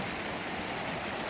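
Mountain river flowing steadily close by, a dense continuous rush of water with no pauses, loud and even throughout, no voices.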